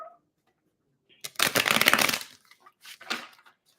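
Tarot cards being shuffled by hand in two bursts, a long riffling rustle followed by a shorter flurry of card slaps, fairly close and with no voices.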